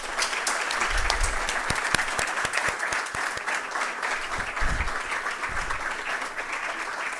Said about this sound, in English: I want to hear a resounding clap to say